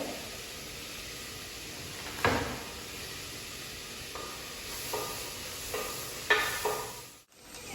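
Spice powder sizzling and frying in a pan while being stirred, a soft steady hiss with a few scraping stir strokes and light knocks, fairly quiet, no talk.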